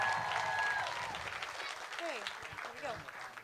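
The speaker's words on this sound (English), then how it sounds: "Big round of applause for our parents, please." An audience applauds parent volunteers at a school production, a steady wash of clapping with voices and cheers rising over it throughout.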